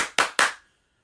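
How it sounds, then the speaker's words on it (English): Two sharp claps land about a fifth of a second apart, each with a short ringing decay, followed by silence. The claps come from children clapping along in time during a family kids' show. "I hope you caught the claps on that one."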